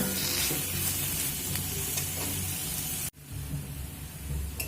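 Onions frying on a low flame for a yam and prawn mash give a steady, close hiss and crackle that breaks off briefly partway through and then resumes.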